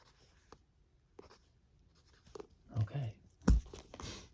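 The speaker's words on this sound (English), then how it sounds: "Just gonna write down some numbers." A pen scratches on paper in soft, close, intermittent strokes, quiet at first and then in a few louder bursts near the end, with faint ASMR-style whispering.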